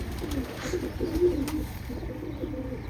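Pigeons coo steadily in low, throaty tones, a continuous soft murmur of several birds close by, with no talking.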